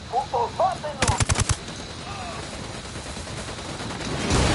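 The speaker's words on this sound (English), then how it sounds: "Opening fire on these fuckers." Rapid bursts of gunfire from a PS4 video game, a quick cluster of sharp shots following brief speech, then a steady background rumble of the game's ambience.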